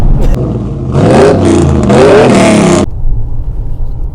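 A Mercedes CLS 5.5 engine revs hard, rising and falling in pitch for about two seconds, loud and close, then settles back to a low idle rumble.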